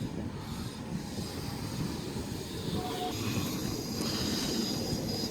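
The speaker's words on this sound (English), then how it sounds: "S113 and Friend arriving on platform number 2 for a Liverpool service" S-set suburban electric train S113 pulling into platform 2 at a station, a continuous low rumble of wheels and running gear with a faint squeal, heard from the platform at a moderate distance.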